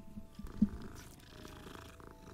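Cats purr in Hogwarts Legacy, a soft, low rumbling drone that continues for a couple of seconds. A single brief bump stands out near the start.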